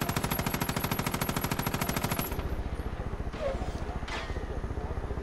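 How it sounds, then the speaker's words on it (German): Gunfire in Far Cry 5, a rapid rhythmic burst of shots that runs for about two seconds, then a few scattered sharper reports over background noise and voices. "Die Sniper schießen schon auf uns."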